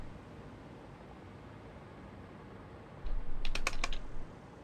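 A few quick keystrokes on a computer keyboard, a short cluster of close clicks after a stretch of quiet background hiss.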